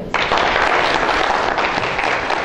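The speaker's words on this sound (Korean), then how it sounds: "우리 남광훈 교수님 뜨거운 박수로 환영해 주세요" Warm audience applause welcomes Professor Nam Kwang-hoon at a Hanyang University business school career lecture, dense clapping starting abruptly and holding steady throughout.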